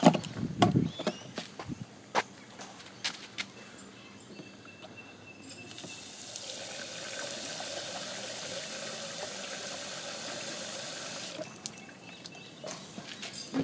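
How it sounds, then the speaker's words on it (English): Water pours steadily into a caravan toilet cassette for several seconds, a close, continuous splashing rush that stops abruptly, with a few clunks and knocks before and after. "Next, we put in about 2 litres of water."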